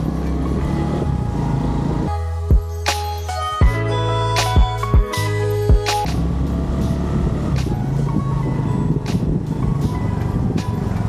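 Street traffic with car and truck horns honking, a long horn blast in the middle plus sharp short toots over a busy engine rumble, heard up close.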